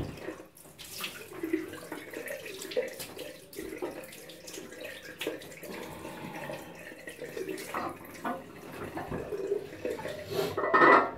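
Water runs steadily from a tap into a sink for rinsing after a shave, a continuous splashing flow that swells and ends in a louder burst of gushing and spattering.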